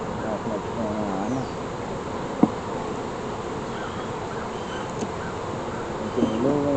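Honeybees buzz steadily around an open beehive with freshly drawn comb, a soft continuous drone punctuated by a brief tap, with faint voices and a few nearby buzzing passes.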